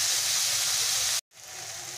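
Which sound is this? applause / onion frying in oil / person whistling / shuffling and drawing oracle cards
onion frying in oil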